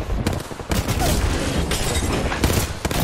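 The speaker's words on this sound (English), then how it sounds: "My guy's sitting on the roof shooting me with this new fucking gun." Gunfire in Apex Legends from a new weapon fired at a player by an enemy on a roof: loud, sustained bursts of shots mixed with crashing and shattering impacts, continuous for about three seconds.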